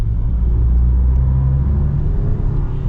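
Steady, loud engine and road rumble from a 2022 Volvo XC60 T8 Recharge hybrid SUV accelerating on a canyon road, a continuous low drone with no talk over it.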